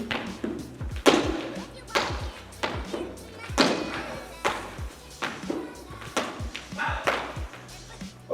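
Repeated heavy thumps of a person doing burpees on a floor, each push-up and high jump landing with a dull thud in a steady, fast rhythm, close by with voices in the background.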